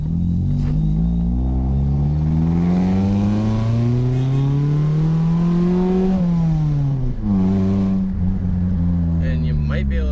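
A car with its catalytic converter deleted and a repaired flex pipe revs loud and close, its exhaust note climbing and falling in steady sweeps with no talk over it.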